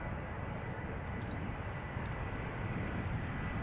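An Iberia Express airliner arriving at Schiphol Airport from Madrid, a steady broadband engine roar that stays even and moderately loud throughout with no distinct events and no talk.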